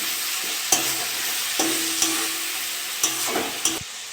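Ginger-garlic paste fries with prawns in a pan for a mixed-vegetable chorchori, with a constant close sizzle and a handful of distinct spatula scrapes and knocks as it is stirred, no voices.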